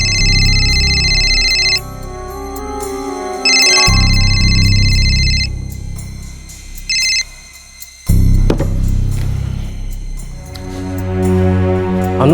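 A phone ringtone rings loud and close in a crime drama, sounding in repeated bursts with short pauses as the call goes unanswered.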